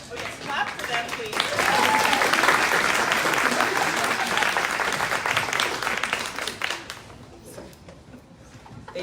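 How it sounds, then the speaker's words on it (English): Audience applause at a voting rights event swells early, holds steady and dense for several seconds, then thins out toward the end, with a voice talking over it. "yes, clap for them, please"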